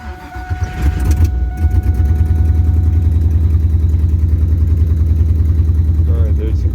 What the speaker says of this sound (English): let's go ahead and fire this thing up and try to run it through some gears